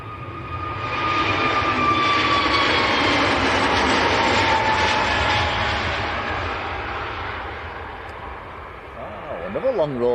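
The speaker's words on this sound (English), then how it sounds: "this is Egypt Air to Cairo next to go" An Egypt Air Airbus A321neo on its takeoff roll to Cairo at Manchester Airport, engines building to a loud, sustained roar with whining tones that slowly fade, with a voice heard near the end.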